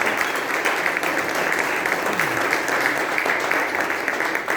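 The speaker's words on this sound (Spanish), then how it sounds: "Primero le damos un aplauso a la hermana." A church congregation claps to welcome a new member, loud continuous applause filling the room with a steady bright patter and some voices mixed in.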